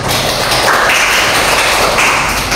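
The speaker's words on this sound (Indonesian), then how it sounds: "Berikan aplaus untuk kelompok 1." Dense, steady applause fills the room for a presenting group at a school scout-organization session, a continuous wash of many hands clapping without a break.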